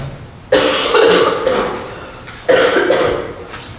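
A person coughs during a township special board meeting on agency funding: two separate, loud, close coughing fits a couple of seconds apart, each with a sharp onset followed by rougher hacking that fades.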